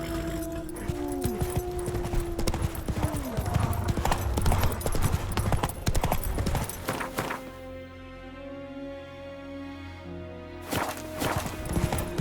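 Horse hooves gallop in The Witcher 3 in a busy, loud, rapid clip-clop over game music and effects, thinning out later as the pace settles, with brief speech mixed in.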